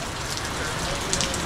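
Heavy rain falls on a beach in Fiji in a brief, dense, even hiss of drops, close and loud.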